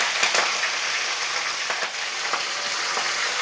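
Curry leaves and green chillies frying in hot tempering oil for a potato curry, a loud, continuous close sizzle with faint crackles and stirring scrapes throughout, no voices.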